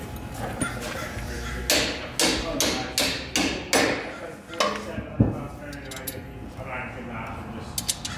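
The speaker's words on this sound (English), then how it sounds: "You can also use a hammer to cap it up." A hammer taps a metal part in a series of sharp, ringing strikes at a steady pace during a Mercedes Sprinter suspension kit installation, followed by a few scattered knocks and mechanical clatter.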